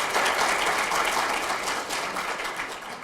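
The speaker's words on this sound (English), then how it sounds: "There will be a generous applause." Audience applause at a start-up competition event, a dense wash of clapping from a crowd that holds steady and fades slightly over a few seconds, with no talk.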